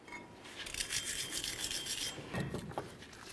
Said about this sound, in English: you want to make sure you clean up the mating surfaces